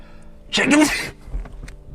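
A single short, sharp sneeze bursts out close by, followed by quiet background noise and faint small sounds.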